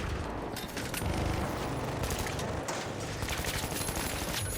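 Minigun firing in a video game, a continuous rapid stream of gunfire with a dense, rattling roar that holds steady at moderate loudness throughout, without talk.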